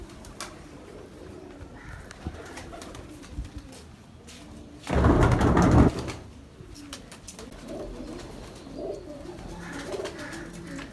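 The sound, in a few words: pigeons cooing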